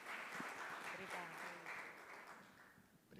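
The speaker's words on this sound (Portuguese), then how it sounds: "Palmas, por favor." Applause rises from an audience at an innovation challenge event as the next company presenter is introduced, a faint, blurred patter of many hands heard from a distance that fades slightly.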